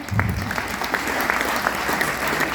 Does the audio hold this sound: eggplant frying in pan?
no